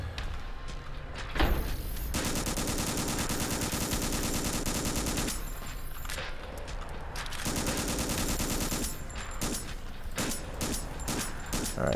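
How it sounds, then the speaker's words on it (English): Sustained rapid video game gunfire aimed at a large enemy, long continuous machine-gun bursts with short pauses between volleys, loud and close. "We'll shoot this big baddie"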